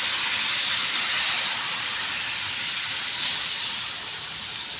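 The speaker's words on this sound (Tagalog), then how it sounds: "Lagyan natin ng kunting gata. Pang palambot lang sa ating gulay." Coconut milk poured into vegetables cooking in a pot gives off a steady, loud hiss and sizzle that continues unbroken, swelling briefly near the end.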